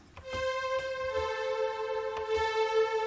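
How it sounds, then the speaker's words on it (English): A free Vital software synth patch with light reverb and a filter plays sustained, bright harmonic chords with a few soft percussive onsets, clear and steady with no voices over it. "we're going to load a Vital patch, which is a free synth"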